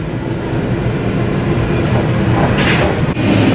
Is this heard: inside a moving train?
yes